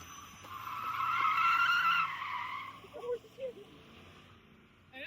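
Car drifting at a car meet, a loud sustained tire squeal swelling over the first two seconds and then fading, with crowd voices and short shouts following.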